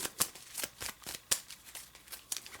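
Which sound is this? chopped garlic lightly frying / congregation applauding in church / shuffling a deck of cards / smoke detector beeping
shuffling a deck of cards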